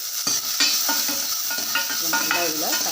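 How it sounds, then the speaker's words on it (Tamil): Chopped onions sizzle in hot oil in a pan for rasam, with a steady frying hiss and repeated scraping stirs of a spoon against the pan, close and alone. "வெங்காயம் எண்ணெயில் கொஞ்சம் வேகட்டும்."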